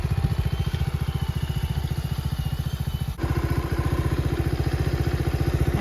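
Honda Dax clone motorcycle with a 125cc engine idling while warming up, a close, steady rapid putter of evenly spaced exhaust pulses with one brief dip midway.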